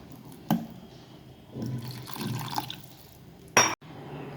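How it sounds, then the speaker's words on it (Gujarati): Water poured in short splashing bursts into thick semolina dhokla batter, with a couple of sharp clinks of a utensil against the bowl. "આ સહેજ હજી ઘાટું છે, તો આપણે આમાં હજી થોડું પાણી નાખીશું।"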